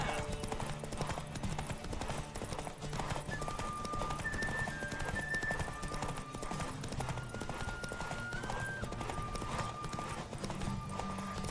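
Rapid rhythmic hoofbeats of a galloping horse in The Witcher 3, continuous and close, with an occasional whinny and a soft musical tone in the background.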